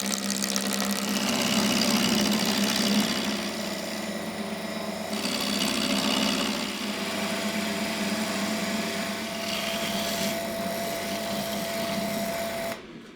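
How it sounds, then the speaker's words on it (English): Wood turning on a lathe with a roughing gouge, a continuous close whirring and rough cutting hiss that rises and falls in waves before stopping at the end, no speech. "that still needs turning down, which I'll do next with the roughing gouge."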